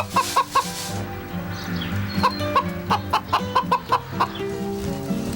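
Hens clucking in a coop as eggs are gathered on an organic farm, a close, repeated series of short rhythmic clucks with soft rustling between, no talk.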